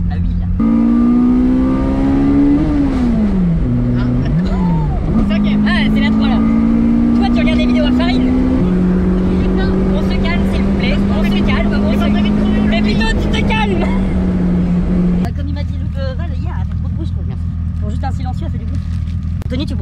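A 2002 Renault Clio 2 RS engine and exhaust rev steadily and loudly nearby, the pitch climbing and dipping through several throttle blips before settling to a lower idle, with people talking over it.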